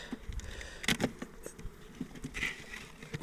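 Italian Cordovan honey bees fly around their hive after wintering outdoors, giving faint buzzing passes and small ticks nearby over a quiet background.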